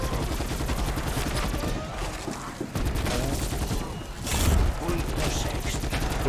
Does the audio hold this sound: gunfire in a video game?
yes